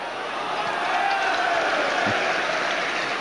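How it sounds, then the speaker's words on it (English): Manchester United fans in a football stadium give an ironic cheer, a loud sustained crowd roar with scattered applause that stays steady throughout. "Ironic cheer from the United fans as Dudek gathered that one"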